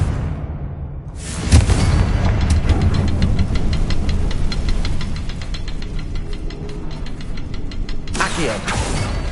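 A Confringo fire spell from Hogwarts Legacy bursts loudly, then rolls into a sustained, roaring blast that stays dense and close for several seconds before a second surge near the end.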